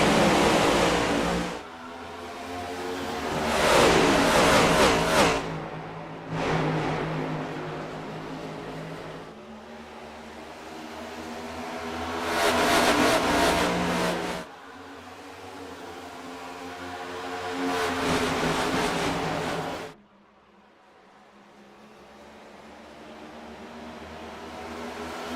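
Race cars roar past at the green flag at Nashville Superspeedway, loud engine noise surging in repeated waves as the pack passes, then dropping off to a quieter drone near the end.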